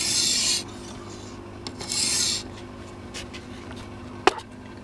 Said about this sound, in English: Once that's dry, you'll see rub the stone along.